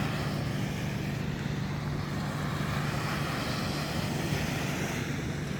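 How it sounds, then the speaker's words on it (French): A steady low engine drone from a passing boat making large waves mixes with broad wind and water noise, constant throughout with no voices. "Le bateau qui passe, ça fait des méchantes vagues."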